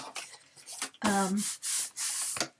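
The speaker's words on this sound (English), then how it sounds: "take my bone folder, and give it a good burnish on the back or the front" A bone folder burnishing paper on a handmade folio cover, firm rasping strokes in several bursts, close and fairly loud, with faint rustling before.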